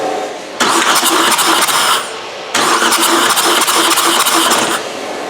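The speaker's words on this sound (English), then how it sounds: "So I'm going to do a few more revolutions of the engine" A Vauxhall Astra J's A17DTJ diesel engine cranks over with a glow plug removed, two loud sustained bursts of starter-driven turning separated by a short pause, with a steady rhythmic chug through each run.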